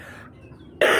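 A single sharp, loud cough from someone with a cold bursts out near the end, after a stretch of quiet room tone.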